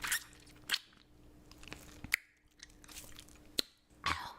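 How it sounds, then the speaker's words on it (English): Someone chewing food close up, scattered crunchy bites and soft wet smacking in an irregular rhythm against a quiet background, with no talking. "I don't like hearing chewing, but I especially don't like looking at them chewing."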